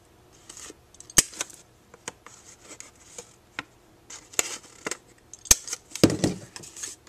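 Scissors rounding the corners of a paper valentine card, giving a string of crisp snips and small clicks with rustling paper between, ending in a short scraping rub, close up and quiet.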